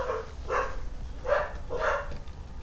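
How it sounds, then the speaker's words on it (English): Dogs bark in a house, several loud, close barks in an irregular run, each short and sharp, with a faint low hum beneath and no talking. "Oh, we got my dogs barking."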